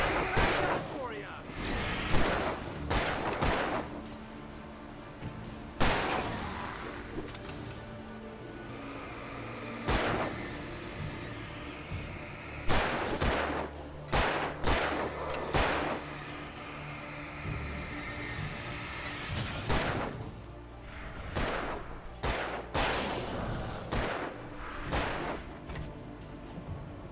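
Repeated loud gunshots ring out in Alan Wake Remastered, spaced single blasts and short clusters over a rumbling backdrop, with voices talking in between.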